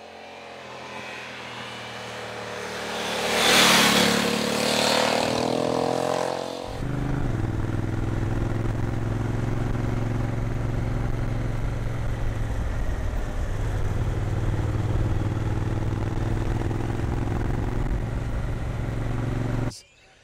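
A 2020 Honda CRF1100L Africa Twin Adventure Sports motorcycle revs up and accelerates, its engine note swelling to a peak and then settling into a steady, loud cruising drone under wind noise before cutting out abruptly.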